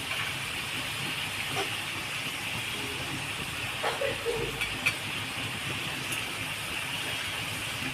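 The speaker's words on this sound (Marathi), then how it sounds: "आणि चांगले तेलामध्ये परतून घेते चांगले थोडा वेळ तेलामध्ये परतून घ्यायचे कोलबीला" Prawns and chopped raw mango sauté in hot oil for a Konkan prawn curry, a steady soft hiss of frying close by with occasional faint clicks and stirring taps, no talking.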